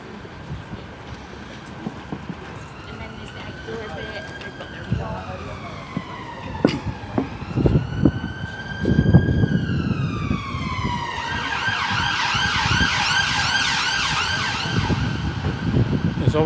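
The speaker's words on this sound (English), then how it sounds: "There's always a fire engine going off somewhere here in Edinburgh." A fire engine siren wails through a street in Edinburgh's New Town, its sweeping tones rising out of city traffic and growing louder and closer as it approaches.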